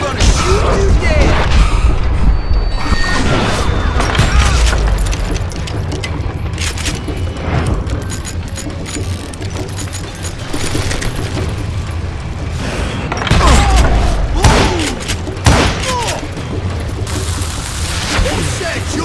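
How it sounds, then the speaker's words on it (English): Dynamite blasts go off in the Western shooter Call of Juarez Gunslinger on hard mode: loud, close booms with crashing debris open the stretch and return later, amid scattered gunfire, clatter and busy game noise. "Who said you could throw dynamite?"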